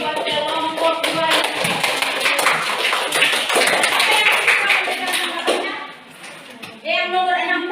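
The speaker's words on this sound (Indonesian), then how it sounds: "Berikan aplaus buat kelompok 2" Applause from a junior high school civics class fills the room for a student group, a dense run of many hands clapping for about six seconds, then a short lull before voices pick up again.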